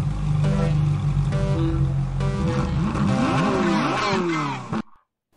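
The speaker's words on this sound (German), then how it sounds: "es gibt so einen kleinen Countdown, dann Motorengeräusche und dann Go, Go, Go" A race-track lap timer for a Carrera slot-car set plays a countdown with a synthetic engine sound effect. Stepped tones give way to rising, revving engine sweeps, then it cuts off abruptly.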